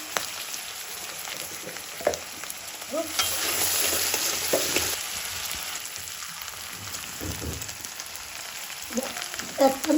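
A curry of rohu fish, beans and potato sizzles and bubbles in a pan, with a steady frying hiss and occasional clinks and scrapes of stirring close by.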